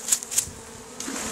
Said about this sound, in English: See a lot of bees right here that have just stuck in the ground.